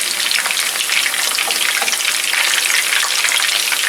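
Meatballs fry in a non-stick pan, giving a steady, dense sizzle that runs loud and even throughout, with no talking.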